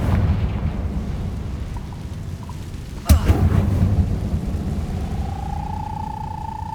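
A Confringo explosion spell in the Hogwarts Legacy video game bursts with a sudden sharp blast partway through, over a steady low rumble of game ambience, followed by a rising tonal whine.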